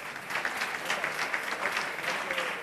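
A dense, even patter of audience applause fills a Valencian falla literary awards gala as a prize winner goes up to the stage, steady and moderately loud for a couple of seconds.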